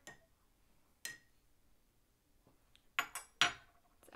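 A spoon stirs red food coloring into a cup of water, giving a few faint, scattered clinks against the cup, with a quick cluster of taps near the end in an otherwise quiet room.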